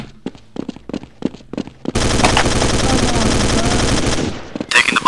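Counter-Strike 1.6 gunfire: a string of separate single shots, then a dense, loud sustained automatic burst lasting a couple of seconds, ending in a final short volley, with no voices.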